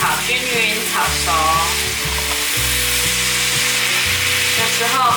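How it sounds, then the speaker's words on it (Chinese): Bok choy and water bamboo shoots are stir-fried in a wok for a vegan dish, with a loud continuous sizzle and scraping stirs throughout and steady tonal music underneath. "把所有食材炒均匀、炒熟"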